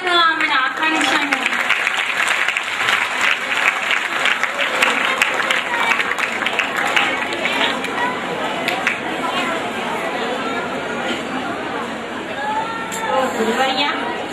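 A drama audience in Nandikotkur breaks into sustained, dense applause that rolls on for many seconds, mixed with crowd chatter and voices.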